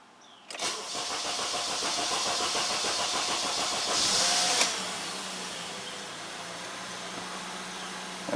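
A 2010 Honda Accord engine cranks slowly and laboriously under the starter for several seconds. The sluggish whirring is loud and close, then cuts off abruptly and leaves a quieter steady hum.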